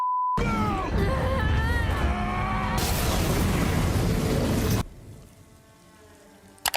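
A loud, dense explosion blast from the TV series The Boys, a massive radiation energy burst, roars at full strength for several seconds, then cuts off abruptly to a low, fading rumble before a brief final crackle.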